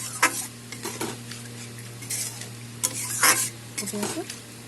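Potatoes and pointed gourd simmer in water in a pan for a Bengali posto dish, with a soft bubbling sizzle broken by several close, irregular stirring scrapes and clinks against the pan.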